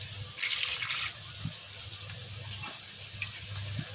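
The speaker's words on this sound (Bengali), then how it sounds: "এবার ঝোলের পানি দিয়ে দেবো" Water splashes and gurgles as it is poured into a pot of braised meat to make curry gravy, a brief louder gush at the start followed by a softer, continuous trickle.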